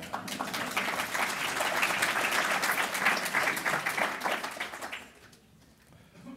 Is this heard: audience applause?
yes